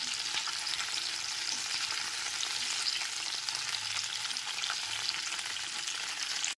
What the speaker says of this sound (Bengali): গ্যাসের ফ্লেমটা মিডিয়ামে রেখে ফুলকপি টুকরোগুলোকে ভেজে নিতে হবে